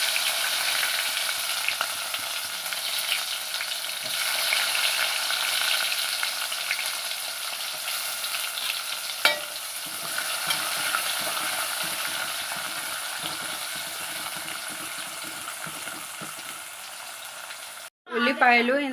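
Onions frying in hot oil with mustard, fenugreek and cumin seeds while making dried fish gongura curry, a steady close sizzle with occasional stirring taps, then a voice breaks in briefly at the end.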